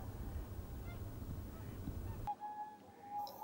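Whooper swans call as they fly overhead above a frozen lake, a loud honking note ringing out after a stretch of low rumbling noise, with a couple of shorter calls following.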